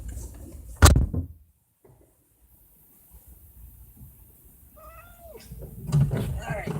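Indoors at night, a domestic cat meows briefly after a sharp knock and a quiet pause, with rustling and a person speaking nearby.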